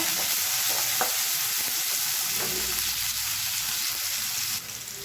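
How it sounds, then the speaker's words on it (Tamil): Chopped onions, a handful of either small or large ones, sizzle and fry in hot oil in a pan for an Indian avaraikkai masala. A steady, loud crackling hiss fills the whole clip, with no talking. "இப்போ இதில் ஒரு கைப்பிடி அளவுக்கு வெங்காயம் சேர்த்துக்கலாம்"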